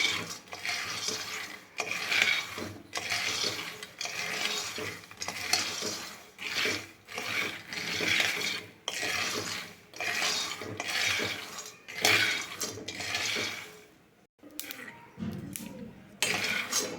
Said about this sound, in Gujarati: ફરીથી સતત હલાવતા જઈને આપણે સિંગદાણાને શેકવાના છે